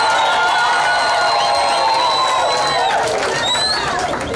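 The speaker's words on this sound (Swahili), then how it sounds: "Wasalimie na upigie vigelegele sana." A large outdoor crowd at a gathering of Mbuti people breaks into loud, sustained ululation and cheering, high trilling voices layered over one another, close and continuous throughout.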